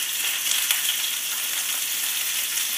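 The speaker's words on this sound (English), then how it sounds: "So I've got some peeled potatoes that I've just chopped up, so we can pop them into the pan as well" Chopped peeled potatoes and sliced onion hiss in a roasting pan with a steady, close, bright sizzle and a few small crackles and stirring ticks, with no talking.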